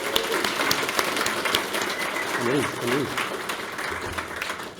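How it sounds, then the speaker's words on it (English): Audience applause for a guest speaker at a NodeFest 2023 talk, a broad wash of clapping that runs the full length under a voice speaking briefly. "let's give him an extra big round of applause for coming all the way out from London,"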